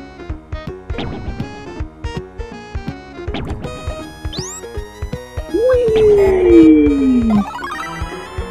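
A dog howls in the video game Zombies Ate My Neighbors, a long falling wail rising over bouncy synthesized chiptune music and game sound effects, loud and close.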